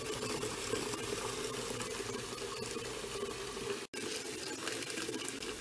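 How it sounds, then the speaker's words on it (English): Hot water pours steadily into a bucket with a continuous gushing, splashing rush, close and fairly loud, briefly interrupted once. "So just pop that into a bucket, fill that with hot water, and give that a good swish around so that that tablet dissolves."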